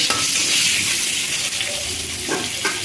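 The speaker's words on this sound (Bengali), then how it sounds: "এই যে আলু বেগুনটা বেশ লাল লাল করে ভেজে নিলাম" Potatoes and eggplant frying in oil with green chilies give a loud, close, continuous sizzle, with a couple of spatula stirs scraping the pan near the end.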